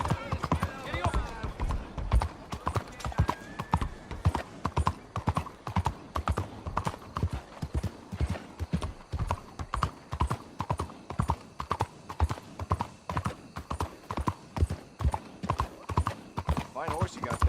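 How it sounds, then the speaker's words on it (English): Horse hooves clip-clopping steadily in the video game Red Dead Redemption 2, a continuous rhythmic trot of close, clear hoofbeats with an occasional whinny and voices talking over it. "Fine horse you got there."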